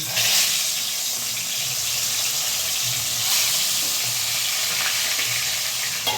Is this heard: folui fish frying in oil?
yes